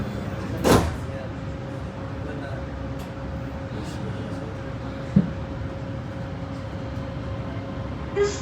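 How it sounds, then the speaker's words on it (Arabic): Doha Metro Red Line train doors sliding shut, a sharp thud followed by a softer knock, over a steady cabin hum with a recorded announcement voice in the background. "جاري غلق الأبواب"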